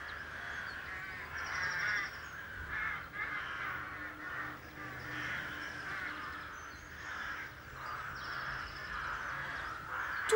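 Crows caw repeatedly while fighting, chasing each other and stealing twigs at their nests; harsh calls come in an irregular series over ambient outdoor noise, moderately distant.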